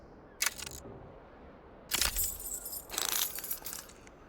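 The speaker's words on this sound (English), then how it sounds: "Keys are clinking in the pocket of your flare-cut pants." Keys clink in a trouser pocket in the video game Disco Elysium: a short jingle, then a longer rattling jangle of metal, fairly close and alone.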